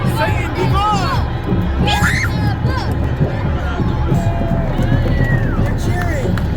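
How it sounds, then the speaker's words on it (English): A crowd gathered at a book burning cheers and shouts in a loud, continuous babble, with excited voices rising above the dense noise throughout. "They're cheering."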